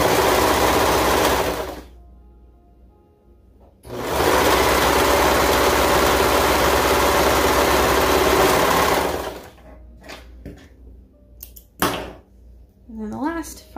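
A sewing machine stitches the side seams of a leotard, running as a loud, close, steady mechanical whir in two long bursts. Short quieter stretches separate the bursts, and handling noises and brief sounds of fabric follow.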